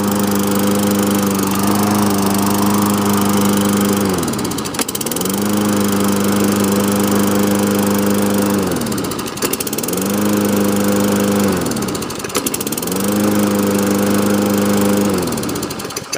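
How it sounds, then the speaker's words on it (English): A Toro lawn mower with a Tecumseh engine runs loud and close at a steady drone, briefly dipping and recovering several times at even intervals. "That's how your Tecumseh engine should run and start basically in 1 pull"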